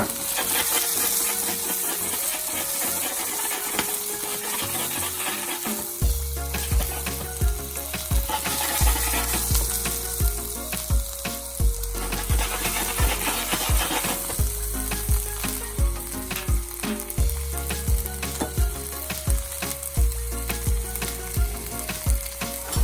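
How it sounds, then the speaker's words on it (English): Onion and garlic sizzle steadily in a hot pan, with a continuous frying hiss and occasional stirring while music plays underneath. "So I'm gonna add the rest of onion and garlic. I'm just gonna sweat this down slowly."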